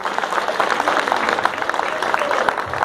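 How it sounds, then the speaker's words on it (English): Crowd applause for performers at a string music show, a dense steady patter of many hands clapping across the whole moment, with some voices mixed in. "Give a big round of applause to all the performers today"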